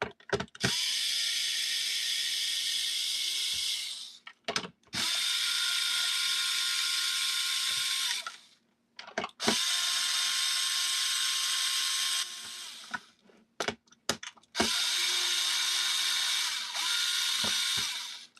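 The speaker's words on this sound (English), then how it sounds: "Why am I using the manual screwdriver?" A handheld screwdriver works screws into a Nerf blaster during modding, with four long stretches of steady, close mechanical grinding and ratcheting broken by short pauses and small clicks.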